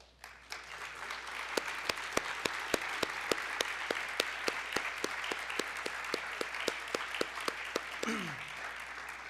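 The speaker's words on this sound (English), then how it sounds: "we'll give them a round of applause" An audience applauds competitors at a 3MT competition event, dense steady clapping filling the room with a few sharp individual claps standing out, sustained for several seconds before easing slightly.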